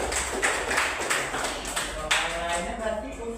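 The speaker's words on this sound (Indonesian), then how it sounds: "Tepuk tangannya." A group of university students claps in scattered, uneven bursts, with a few voices murmuring underneath.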